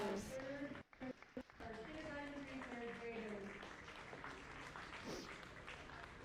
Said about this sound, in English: Please give one more nice round of applause to our kindergarten through third graders.